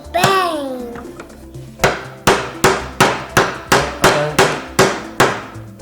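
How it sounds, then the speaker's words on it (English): A toy hammer strikes plastic building-toy nuts and bolts in a run of about ten sharp, evenly spaced knocks. A voice sounds briefly at the start before the tapping begins. "I'll hammer them a bit."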